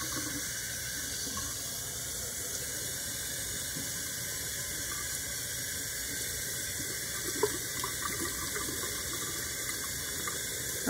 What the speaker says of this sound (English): So as I open it, I'm just gonna continue to rinse.